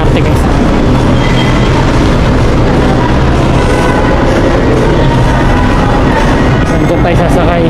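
Manila LRT light rail train rumbles loudly past at close range on an elevated line, a dense continuous rolling roar with faint metallic rattles, while people talk in a busy crowd nearby.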